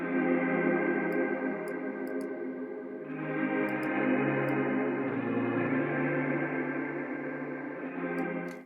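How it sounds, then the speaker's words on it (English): Guitar played through the Baby Audio Crystalline reverb plugin with the wet signal fully up: sustained, shimmering washes of tone that shift pitch around the three- and five-second marks, with faint high ticks above and no talking. "I'm going to keep the wet signal all the way up so I can just listen to the reverb"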